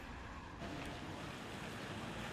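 Wind buffets across a wet university campus in Exeter, a steady broad rushing roar that picks up after a moment and keeps blowing without a break.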